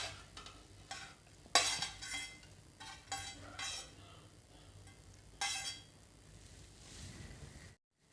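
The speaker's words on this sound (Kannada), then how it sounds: "ಈಗ ಮೆಣಸಿನ್ಕಾಯಿ ಹುರಿದಿಟ್ಕೊಂಡಿದ್ವಲ್ಲ ಅದನ್ನು ಇದ್ರೊಳಗೆ ಹಾಕ್ಕೊಳ್ಳೋಣ" Fried green chillies tipped into a pot and stirred for raw tomato chutney, close metal spoon scraping and clinking against the vessel in irregular bursts, with a couple of sharper clanks and a soft sizzle underneath.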